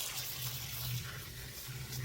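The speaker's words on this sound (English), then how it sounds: "I am washing off the root balls so that these roots can be free. While also providing it with its first real good drink of water." A garden hose runs steadily as it washes soil off plant root balls during a residential landscaping job, making a constant hissing gush with a low hum beneath it.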